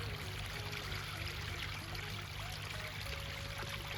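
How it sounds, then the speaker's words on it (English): A garden pond waterfall splashes and streams continuously in the background, a faint, even rush of falling water with a low hum beneath it and no voices. "you got the waterfall in the background"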